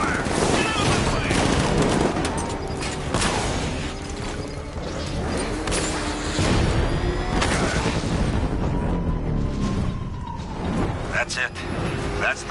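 Gunfire in a Batman video game: sustained bursts of rapid shots and booms rattle on for the whole stretch, loud and close, with shouting voices over the shooting.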